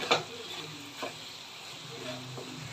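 Coconut burfi mixture for a Diwali sweet is stirred in a pan, thickening and no longer sticking. A few close scraping strokes sound over a soft, steady sizzle.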